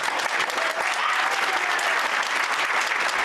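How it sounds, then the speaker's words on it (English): A courtroom crowd stands and applauds a former county judge cleared on appeal, sustained, fairly loud clapping from many hands that holds steady throughout. "a courtroom stood and applauded after Wooten was cleared of all wrongdoing by an appeals court"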